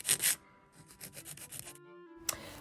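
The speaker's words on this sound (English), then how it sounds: "So we filing that little part right there to the natural nail plate." A nail file rubs an acrylic tip where it meets the natural nail plate, with a few short, close, soft rasping strokes and then a quiet pause.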